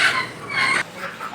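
A chicken held in someone's arms on a moving two-wheeler gives a few close, raspy clucks and squawks in quick succession.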